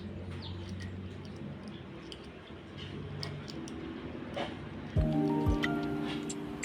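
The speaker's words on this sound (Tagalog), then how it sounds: "Naririnig na naman natin yung huni ng sisiw." High, thin peeping chirps from small chicks, repeated on and off, with a louder burst of bright tonal calls near the end over a low background hum.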